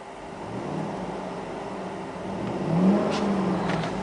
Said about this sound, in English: I'm going to rev it.